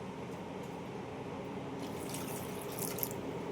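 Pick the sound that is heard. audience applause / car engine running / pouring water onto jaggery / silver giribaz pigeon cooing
pouring water onto jaggery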